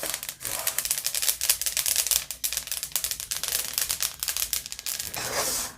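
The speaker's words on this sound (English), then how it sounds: "I've parched the Benny seeds until I don't hear too much more of the popping" Rapid, dense crackling and popping of sesame (benne) seeds toasting in a pan, continuous and close, with a faint sizzling wash underneath.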